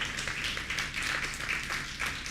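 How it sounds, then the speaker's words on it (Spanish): A church congregation applauds the Lord during a sermon, a steady wash of many hands clapping that fills the whole short moment at a moderate level. "¿Cuánto le dan un aplauso al Señor por eso?"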